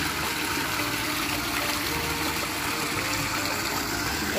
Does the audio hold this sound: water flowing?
yes